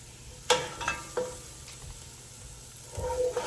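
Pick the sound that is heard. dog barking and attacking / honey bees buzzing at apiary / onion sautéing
onion sautéing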